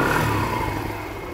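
A Yamaha XTZ 125 motorcycle engine revs up close, its tone climbing briefly and then easing off into a steady, loud running note.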